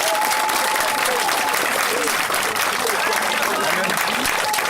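A church congregation breaks into continuous loud applause and cheering acclaim for God's name, a dense, steady wash of clapping filling the whole stretch with voices mixed in.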